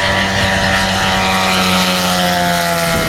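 A light propeller aircraft drones loudly and steadily overhead at an AC Tyrosse air show meeting, its engine tone holding even without a break.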